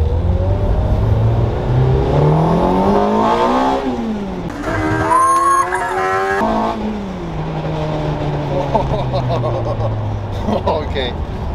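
A Lotus with a Toyota 2ZZ engine tuned to 200 hp accelerates hard, its engine note climbing through the revs, dropping briefly at gear changes, then pulling up again, loud and close from inside the car.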